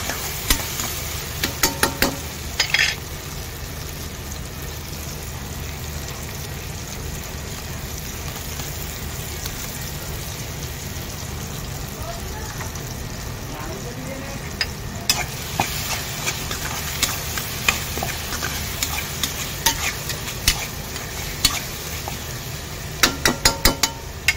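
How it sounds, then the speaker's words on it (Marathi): Masala paste frying with cooked tomato in a pan for Maharashtrian bombil curry, a continuous loud sizzle with bursts of spoon-and-pan scraping and clinks near the start and end, no talk. "आता आपण ह्याच्यात वाटण टाकूया।"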